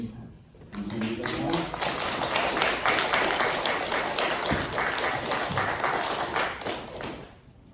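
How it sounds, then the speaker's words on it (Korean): A church congregation claps for a pastor during a Sunday service, a dense steady round of applause that starts after a brief voice and fades out at the end. "박수 한번 보냅시다"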